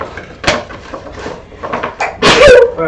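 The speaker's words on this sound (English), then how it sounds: "The box is causing the sneezes." A person sneezes sharply and close up, a quick burst near the end after a few softer breathy sounds and small bumps.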